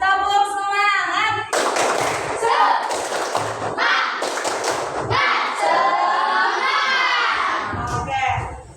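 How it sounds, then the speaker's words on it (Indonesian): Schoolchildren in an Indonesian classroom perform a rhythmic spirited clap routine, with bursts of patterned claps and thumps mixed with shouted chanting, alternating with a teacher's voice between rounds. "Kita tepuk semangat dulu. Tepuk semangat."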